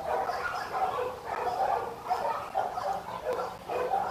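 Several dogs bark and whimper in quick, repeated yips and whines that carry on steadily throughout, fairly close and with no talking over them.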